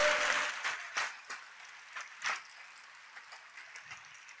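A church congregation clapping their hands, starting as a loud burst that thins into scattered, uneven claps fading away over a few seconds.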